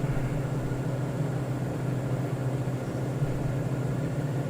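Propeller aircraft cabin noise in Microsoft Flight Simulator 2024: a steady, dense droning hum with a low throbbing tone, constant and fairly loud throughout, with no voices.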